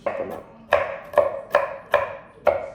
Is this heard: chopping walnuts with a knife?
yes